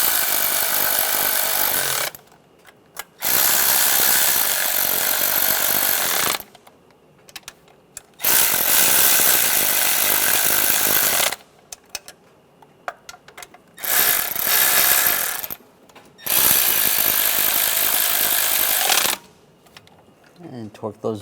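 Power tool snugging down intake gasket bolts on a 1996-2002 Toyota 4Runner, running in several loud bursts of a few seconds each, with short pauses between them.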